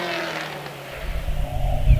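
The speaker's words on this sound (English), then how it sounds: "William Butler is on the hill as well now in the Riley Special" A vintage Riley Special racing car climbs the Prescott hill climb course, its engine rising from a distant whir to a louder, rumbling rev as it draws nearer.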